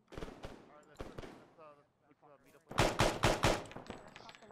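Bursts of rapid rifle fire in the military shooter Arma 3, a loud volley of close shots following stretches of radio-style talk, with voices heard before the shooting.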